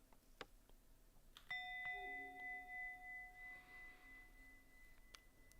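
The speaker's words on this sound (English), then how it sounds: "in a moment I'm going to ring the bell" A meditation bell is struck once, its clear ringing tone sustaining and slowly fading over several seconds in a quiet room, with a few faint clicks around it.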